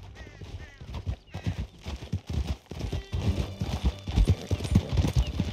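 Horse hooves gallop in Red Dead Redemption 2 in a steady, fast clip-clop rhythm, close and fairly loud, with occasional whinnies and a rider's voice in the mix.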